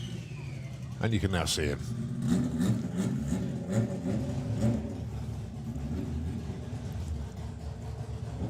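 Amir's Anomaly Honda drag racing car idles and rumbles at a drag strip, a steady low engine drone with a brief burst of revving early on, heard under a commentator's voice over the PA.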